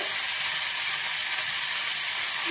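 Ginger paste sizzling as it hits a pan of sukto, a Bengali vegetable curry, with a steady, close, bright frying hiss throughout and no voices.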